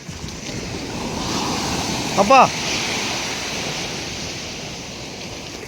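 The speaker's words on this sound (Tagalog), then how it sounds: "Malaki pa rin pala makakatakbo ang alon no." Heavy ocean surf rolls steadily at dusk near a moored fishing boat, with wind buffeting the microphone and a brief spoken exclamation.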